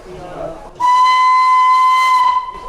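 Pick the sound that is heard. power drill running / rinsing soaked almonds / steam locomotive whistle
steam locomotive whistle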